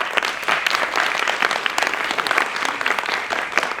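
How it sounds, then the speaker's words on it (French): An audience in a French theatre applauds the people who will translate, a dense and steady round of clapping that carries on throughout. "applaudir les réalisateurs qui vont nous faire la traduction"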